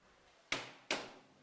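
Two sharp knocks on a door, evenly spaced about half a second apart, each with a short decaying ring, played alone over a faint background hiss.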